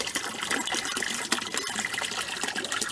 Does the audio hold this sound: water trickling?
yes